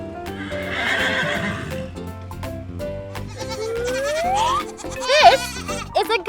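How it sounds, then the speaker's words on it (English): A farm horse neighing, with hooves clip-clopping: a few shrill, rising and falling whinnies toward the end, close and clear over a busy tonal background. "This is a horse, and horses go neigh."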